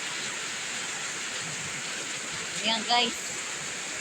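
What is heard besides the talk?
heavy rain during a storm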